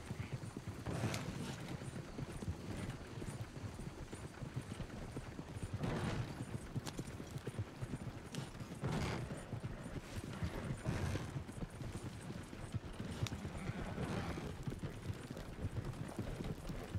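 Steady clip-clop of horse hooves at a brisk rhythm in a Western video game, with occasional louder thuds and game noise around them, no talking.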